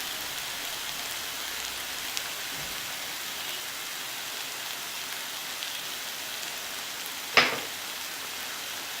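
Ground spices such as garam masala, turmeric, cumin and amchur are sautéed in a pan for samosa filling, giving a steady soft sizzling hiss throughout, with one sharp clank of a utensil near the end.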